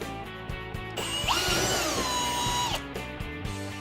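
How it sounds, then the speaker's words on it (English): A power drill whines steadily through a bore in a sled under its lip for a couple of seconds, starting and stopping sharply, with faint clicks before and after. "We're going to go and drill that hole."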